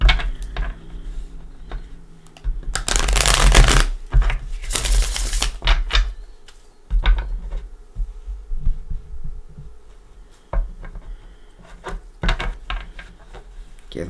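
Tarot cards are shuffled in quick riffling bursts, two loud crisp flurries early on followed by softer taps, flicks and handling clicks, close by with no one talking.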